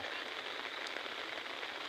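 A heavy downpour pours in a continuous broadband hiss, faint but unbroken, with no voices over it.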